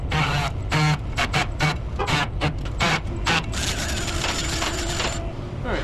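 A tool scrubs surface rust off a car brake hub around the wheel studs in a series of close, harsh scraping bursts, then settles into a longer continuous grinding stretch.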